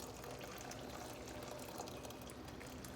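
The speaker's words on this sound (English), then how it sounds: "Pouring the water, and I'm going to pour a lot here because I want to freeze some of it." Water is poured steadily for an herbal cooling compress, a faint continuous trickling splash with no talking.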